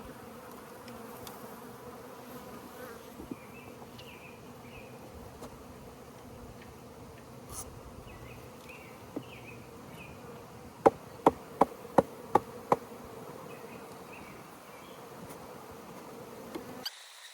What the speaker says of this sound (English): We got lots of bees in here.